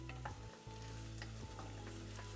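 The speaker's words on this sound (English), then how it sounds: "you can hear that we have approached the sizzle once again" Onions and ancho chili sizzle steadily in a pan over medium-low heat, a continuous close crackling fry with a faint hum beneath and no voices.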